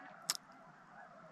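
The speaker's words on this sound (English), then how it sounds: "Oh, some more ducks just landed." A single short duck call sounds once, faint and distant, over quiet open-air background at an Alberta hunting spot.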